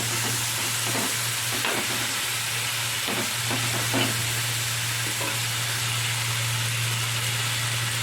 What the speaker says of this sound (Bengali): আলুগুলোকে একটু মিলিয়ে করে ভালো করে ভেজে নিতে হবে